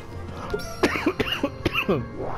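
Several sharp, close coughs break into a steady background of video game music, the rough bursts coming in quick succession over about two seconds.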